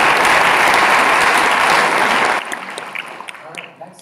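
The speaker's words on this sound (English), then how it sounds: "So please, a big round of applause." Audience applause at a business model contest, loud and dense for about two seconds before tapering off into scattered claps.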